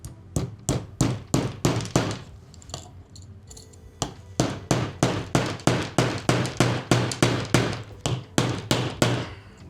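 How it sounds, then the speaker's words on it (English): A small finish hammer driving a nail, struck in fast steady runs of sharp, loud, close blows, pausing briefly near the start and again around four seconds before continuing evenly. "And let's just pound this in, see if this thing falls apart or if it holds up."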